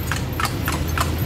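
Horse hooves clip-clop at an even trotting pace while a horse pulls a kalesa through San Fernando, Pampanga. The close, regular beats sound over steady road rumble.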